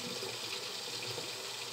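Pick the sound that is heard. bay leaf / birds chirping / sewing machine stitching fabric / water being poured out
water being poured out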